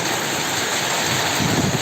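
Heavy rain pouring down in Thanjavur under dark skies, a dense continuous hiss with low rumbling underneath and a slight swell toward the end, with no speech.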